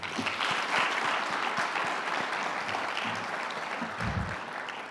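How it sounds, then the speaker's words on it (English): Indoor audience at a community meeting on neighborhood violence in Winston-Salem, North Carolina, giving a sustained round of applause, dense clapping at moderate distance that holds steady, with a few low voices near the end. "I want to give them a round of applause."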